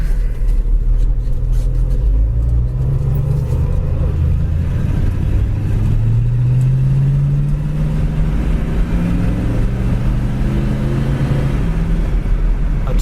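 Inside a 1966 Ford coupe with a 289 two-barrel engine and the windows rolled up, a loud, steady low engine drone and road rumble build as the car drives and accelerates, with no talking.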